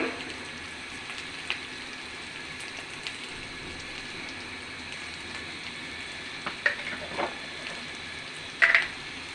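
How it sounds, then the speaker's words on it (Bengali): Spiced masala fries in a pan for a prawn and jackfruit curry, giving a steady, fine crackling sizzle throughout, with a few louder pops and sputters near the end. "মশলাটা একটু কষানো হয়ে গেলে আমি এর ভিতরে চিংড়ি মাছ দিয়ে দেব।"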